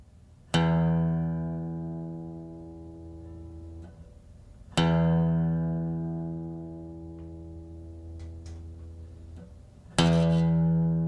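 Reference tone for a guitar's sixth string, low E, struck three times at long intervals, each note ringing out loud and clear with rich harmonics and slowly decaying before the next strike.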